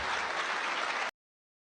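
About a second of dense, steady applause from a crowd in a news report, cut off abruptly into silence.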